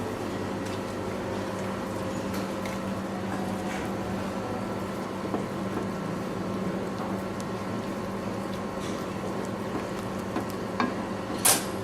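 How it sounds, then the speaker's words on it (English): Parsley being stirred into a pancetta dish in a pan, with a low continuous sizzle and faint scraping stirs under a steady background hum, no talking. "We'll give it a quick stir."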